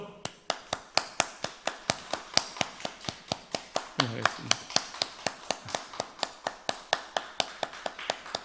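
A church congregation at a Sunday worship service claps in unison, crisp evenly spaced hand claps repeating steadily for several seconds, with a brief spoken voice rising partway through.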